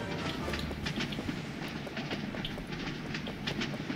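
A train in the video game The Mean Greens - Plastic Warfare, a continuous rumbling roll with faint rhythmic clacking, steady and dense throughout with no clear voices.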